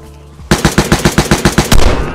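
Automatic gunfire in the survival shooter Vigor on Xbox One, a loud close burst of about ten evenly spaced rapid shots that ends in one heavier blast and a fading tail.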